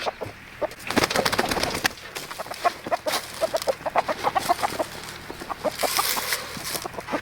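Several backyard chickens cluck and chatter close by in a busy run of short, repeated calls, fairly loud and continuous with no voices over them.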